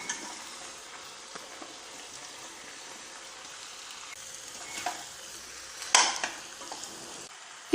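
Meat and radish sizzling in a pan, a steady soft hiss of frying with occasional stirring scrapes and a louder clink near the end, no talking.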